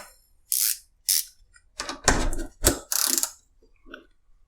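A Harbor Freight ICON 15 mm ratcheting wrench tightening a fastener by hand, giving a few loud, close, irregular bursts of clicking ratchet action separated by short pauses.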